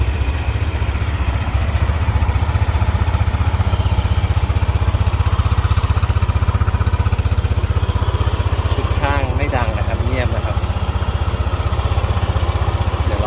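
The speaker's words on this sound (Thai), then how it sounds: "เดี๋ยวเรามาลองสตาร์ทเครื่องยนต์ให้ฟังเสียงกันนะครับ" A Yamaha NMAX 155 scooter engine idles steadily and close, a continuous low chugging rumble with no gaps; a brief squeaky noise appears near the end.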